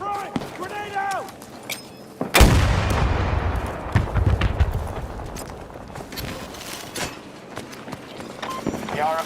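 In the Battlefield 2042 video game, a loud grenade blast bursts out after a short stretch of shouted squad chatter, followed by gunfire and scattered rattling shots that fade across the rest of the clip, with a voice calling out near the end.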